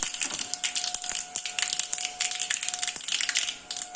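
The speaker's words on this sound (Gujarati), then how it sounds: "વઘારિયામાં થોડું એવું તેલ લઈ લેવાનું અને તેમાં રાઈ નાખી દેશો હવે રાઈ ફૂટે" Mustard seeds pop in hot oil in a small tempering pan for khandvi, giving a dense, rapid crackle of sharp close pops over a faint steady tone, with no voices.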